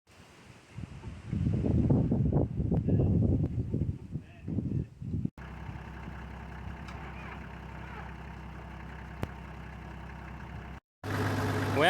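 A diesel Toyota Land Cruiser engine runs at fast idle, a steady close mechanical drone held for several seconds after an earlier stretch of louder rumbling and handling noise, then cut by a brief gap.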